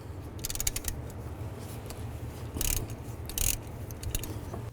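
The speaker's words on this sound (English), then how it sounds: "Now take this bolt out right here, use a 14mm socket" A ratchet fitted with a 14mm socket works a bolt loose on a 2005-15 Nissan Xterra, with quick, close clicking runs of the pawl broken up by short pauses and a few louder scraping bursts.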